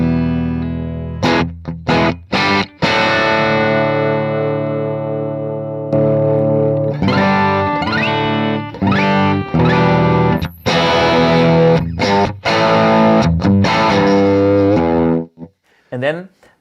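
Electric guitar played through an amp with a boost pedal: loud, distorted chords and riffs, with short gaps between phrases, ending in a few scattered picked notes.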